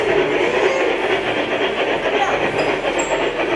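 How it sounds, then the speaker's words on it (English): A small Hogwarts model train rumbles steadily along its track in a candy store, a continuous close whirring clatter with no pauses and no voices. "the Hogwarts train's making its way around the track"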